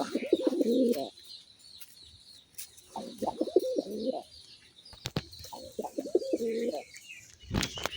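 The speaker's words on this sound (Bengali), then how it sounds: "এই দেখেন কবুতরগুলো একদম ফ্রেশ কন্ডিশনের রাজগোল্লা কবুতর" Three separate bouts of deep cooing from Raj Golla pigeons, each about a second long, close up, with brief rustles and clicks between them.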